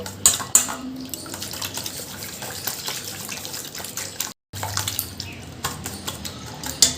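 A hand whisk stirs bael fruit sherbet with cold water in a vessel, producing close, continuous sloshing and liquid swishing with light clinks against the container, moderately quiet and broken by one brief gap.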